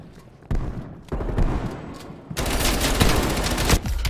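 SMG fire in Call of Duty: Black Ops Cold War, loud rapid bursts of automatic gunfire in several sustained volleys, with the longest spray running near the end.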